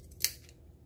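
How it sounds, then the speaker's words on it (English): Fabric darts being cut with scissors while making a bowl cozy, a single crisp snip up close over a quiet background. "we're going to take our scissors and we're going to cut those all the way to about 1/4"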